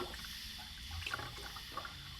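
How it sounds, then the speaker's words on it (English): Oil trickling and splashing as it drains from an engine, a faint, steady liquid pour with a few small splashes, quiet and close. "we're gonna go ahead and drain some of this oil out"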